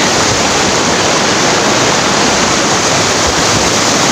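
Ocean waves wash steadily at a provincial shore, a loud, continuous broadband rush of surf with no distinct breaks, filling the whole clip without voices.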